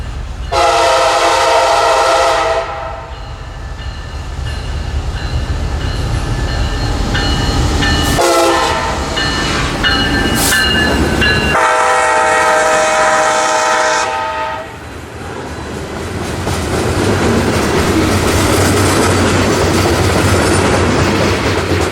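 A local freight train passes close by, loud and continuous, its horn sounding in several long blasts over the heavy rumble and clatter of rolling wagons, which carries on alone after the horn stops.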